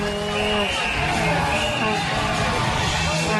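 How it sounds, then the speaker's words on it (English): Hockey arena crowd at a junior playoff game reacting to a cross-checking penalty, a dense, steady roar of many voices with yells and cheers throughout. "And listen to the crowd."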